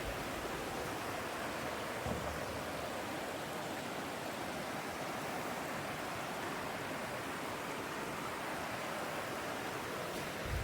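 Steady broadband rush of the South Fork of the Stillaguamish, a clear blue mountain river, flowing continuously at close range with no pauses, loud and even throughout.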